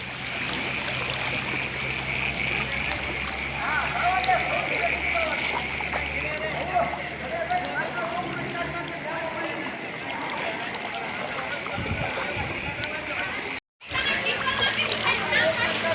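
Floodwater rushes loudly and continuously through a flooded village in Vallabhipur, Bhavnagar, after heavy rain, a strong steady roar with faint voices mixed in, broken by a brief dropout near the end.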